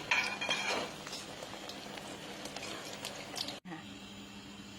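A metal utensil clinks and scrapes in a pan while fried long eggplant is scooped out of hot oil, several light taps and rattles over a soft sizzle, then a brief cut to quieter frying.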